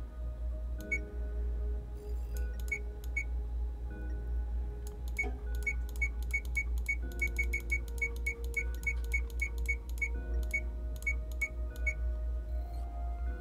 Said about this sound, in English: Barcode reader's responding.